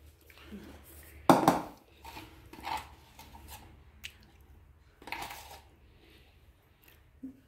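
Cake batter mixed by hand in a bowl, with scattered clinks and scrapes of a utensil against the bowl, one loud knock early on, and faint voices in the background.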